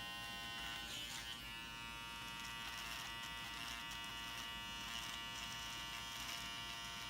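An electric beard trimmer buzzes steadily and fairly quietly while it trims a beard line, a continuous hum with no voices over it.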